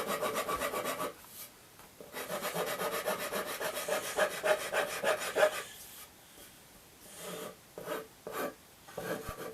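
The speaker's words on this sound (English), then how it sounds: "And file between the two lines, and from there it will be sanded into a more gentle curve." A hand file rasps across a wooden guitar neck in repeated close strokes, each scrape a dry gritty rub separated by short pauses, with no voices.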